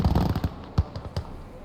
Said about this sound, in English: So we get a satchel charge out. Throw it at his boys there.